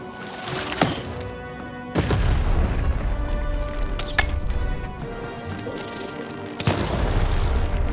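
Cannon fire in the video game Lost in Random: several heavy booms at irregular intervals, each followed by a rumbling tail, loud and close over game music.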